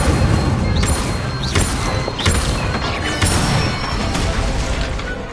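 Spell effects from the video game Hogwarts Legacy, including the fire spell Incendio, burst out as a dense run of whooshes, crackles and booming impacts over a steady magical background bed, loud and continuous with no talk.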